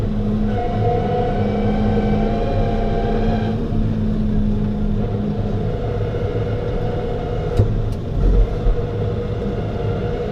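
A Case IH T5.120 tractor engine running a Teagle Tomahawk straw blower at raised throttle, a loud steady low drone with a humming whine, broken by a couple of brief clunks near the end.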